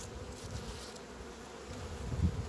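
Honeybees buzzing steadily around an open beehive as the hive is tended with essential-oil patties, a close, continuous drone with no talking.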